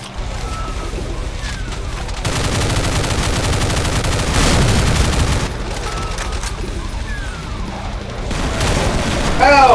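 Rapid video game gunfire rattles loudly and continuously, with bursts of automatic fire and booming shots layered over one another and no pauses.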